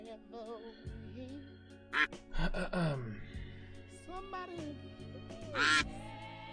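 A duck in a duck race quacks in several loud, nasal bursts, with short pauses and other squawky cries between them.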